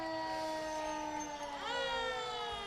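A 2014 Pierce Type 1 fire engine at a Fourth of July parade sounds its electronic siren, a loud steady wailing tone that shifts pitch partway through and carries on continuously without a break.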